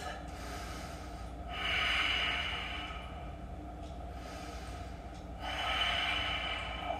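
A yoga practitioner takes two slow, audible breaths through the nose during a yoga blend session, each a hissing swell that rises and falls over a steady low background hum, with no speech.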